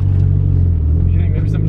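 A Mitsubishi Evo 5 is driving with a faulty front differential: a loud, continuous low drone and rumble from the drivetrain that holds steady throughout, with a faint voice underneath.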